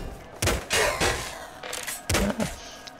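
Several loud auto shotgun blasts from the video game Nuclear Throne fire in quick irregular bursts, each a sharp boom with a short decay, five or so shots over a few seconds.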